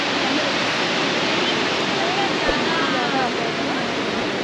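A waterfall near Nagarjuna Sagar Dam roars in a dense, steady wash of rushing water, loud and continuous, with one short thump partway through.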